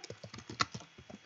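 Rapid typing on a computer keyboard, a dozen or so crisp, close key clicks in an uneven rhythm with one sharper keystroke midway, heard alone without talk.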